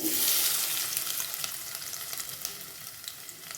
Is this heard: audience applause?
no